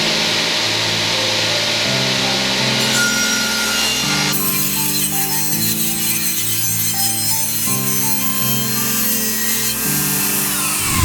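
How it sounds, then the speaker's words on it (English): A table saw rips a 2x4 down the middle, the blade whining steadily as it runs through the wood, loud and close, with the tone shifting partway through the cut. "Next step is to cut our 2x4 directly in half."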